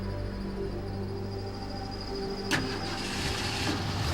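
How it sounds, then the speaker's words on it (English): A car engine cranks and catches with a sharp onset, then idles quietly against a faint background hum. "The victim's car started without any problem"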